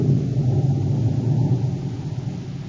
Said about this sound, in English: As the storm builds in violence, Buzz and Happy stand in the darkened office